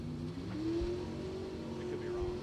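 A hot rod race car drives past with a steady engine drone at a racing event, heard from a distance under a commentator's voice.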